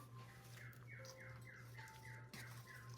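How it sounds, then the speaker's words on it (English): A bird chirps and squawks in a repeated series of short notes over a steady low electrical hum, quiet and somewhat distant indoors. "If you hear some singing in the background, that's my bird."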